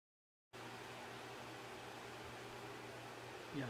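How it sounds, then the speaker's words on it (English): An apartment kitchen exhaust fan runs steadily near the stove, a faint, even whooshing hum that starts abruptly and continues alone. "sorry about the fan noise."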